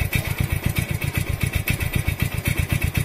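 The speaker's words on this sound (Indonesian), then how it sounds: "kalau mau langsam motor enak, bisa anteng, bisa normal kembali kayak standar dari pabrik" Motorcycle with a broken carburetor pilot jet idles close by, a rapid, even putter of firing pulses with light mechanical clatter, steady throughout.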